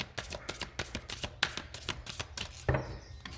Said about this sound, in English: I'm going to shuffle through one more time.